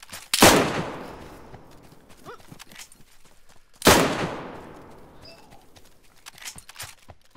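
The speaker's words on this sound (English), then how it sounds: "It's a Mosin fight! A Mosin fight!" Two loud, sharp bolt-action Mosin rifle shots ring out a few seconds apart in DayZ, each trailing off in a long outdoor echo, with faint scattered noises between them.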